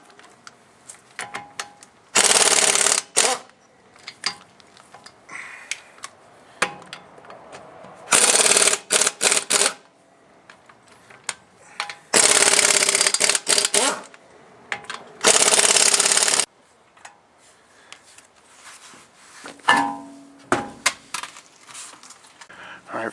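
An impact wrench is used to take the wheel off a 1996 Toyota Tacoma, firing several loud, sustained rattling bursts of a second or more each, with clanks of lug nuts and tools between them.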